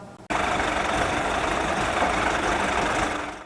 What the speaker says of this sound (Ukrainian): Трактор комунального підприємства Лозова водоканал пробирається до аварійної ділянки